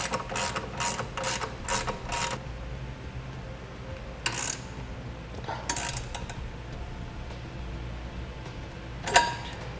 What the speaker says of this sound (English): And now we can snug up these bolts.